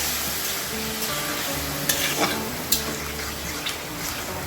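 Spiced vegetables for Bengali shukto, including bitter gourd and green banana, sizzle steadily in a pan while being stirred. Several sharper spits and crackles pop out over the continuous frying hiss.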